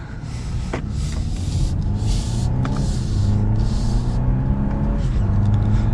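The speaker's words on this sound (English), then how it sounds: "We have the vehicle warmed up so we can test out these paddle shifters." A warmed-up 2022 BMW 530i driving in manual mode with paddle-shift gear changes, a steady low engine drone building gradually under constant road rumble, heard from inside the cabin with a few faint clicks.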